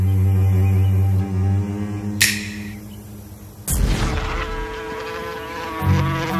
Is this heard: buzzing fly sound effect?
yes